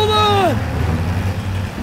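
A Jeep rumbles along in the video game Call of Duty WWII, a steady low engine drone holding throughout, with a falling whine sweeping down near the start.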